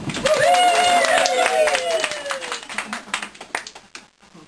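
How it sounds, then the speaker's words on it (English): Party guests clap at a 70th birthday dinner, with a loud burst of hand claps and a high voiced cheer at first, then thinning into scattered, fading claps. "So big clap for that"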